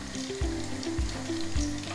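Steady bubbling sizzle of doughnuts frying in hot oil, with a few soft knocks and clinks recurring underneath, close and continuous.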